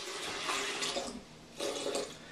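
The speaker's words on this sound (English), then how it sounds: "I'm going to add a little bit of water" Water is poured into a blender holding a banana and almond milk, a steady splashing pour in two bursts with a short pause between them, close and fairly quiet.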